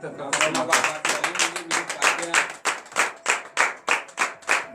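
Congregation at a morning prayer service clapping together in a steady, loud rhythmic beat that settles into even, repeated claps.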